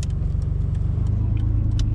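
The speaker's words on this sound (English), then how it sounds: "Oh, that's a garbage truck." A garbage truck passes nearby on a street, its low engine rumble steady and loud throughout, with faint rattles and clinks on top.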